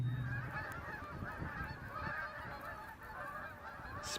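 A flock of geese honks outdoors in spring, a continuous chorus of overlapping calls from some distance, fairly faint and steady throughout.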